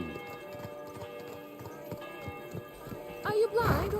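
Horse hooves clip-clop in a steady walking rhythm in a video game, light repeated thuds running under game music and chatting players' voices.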